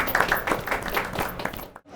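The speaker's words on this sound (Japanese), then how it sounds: "拍手を" A small group at a baseball team's roundtable claps in a short, lively round of applause that fades out abruptly near the end.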